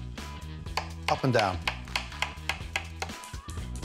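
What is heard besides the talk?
knife slicing mushrooms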